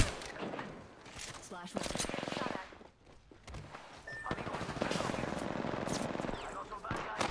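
Gunfire in Apex Legends, sharp automatic bursts and single shots close by in uneven volleys, with a brief lull midway and a player speaking between shots.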